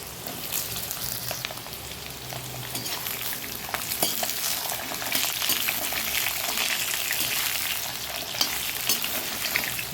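Potatoes crackle in white oil tempered with black cumin and dried red chili, a busy close sizzle with spatters and occasional stirring scrapes, continuous and free of talk.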